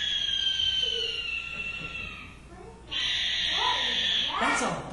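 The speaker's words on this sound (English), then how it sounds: "That's a barn owl." A barn owl gives long, harsh, hissing screeches outdoors on a night hike, two drawn-out calls separated by a brief pause, moderately distant, with a faint murmur of a voice underneath.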